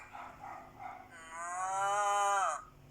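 A cow gives one long, drawn-out moo, loud and close, rising and then fading out.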